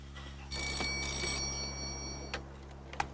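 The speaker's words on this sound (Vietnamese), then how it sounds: "Anh Long, điện thoại." A telephone rings in an indoor scene of a Hong Kong film. A bright, trilling bell sounds continuously for a couple of seconds over a low hum, followed by a few faint clicks.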